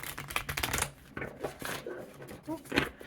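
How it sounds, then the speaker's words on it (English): Arcana Folia oracle cards with smallish circular cards and fairly thin cardstock being shuffled by hand, in bursts of quick papery riffles and clicks, close and fairly soft with brief pauses. "Shuffles very well, and that's due in part to the smaller circle size and the cardstock, which isn't too thick."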